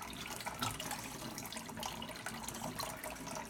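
Water from an Ormus trap pours steadily into a cup, a continuous close splashing and trickling that holds even for a few seconds with no voices.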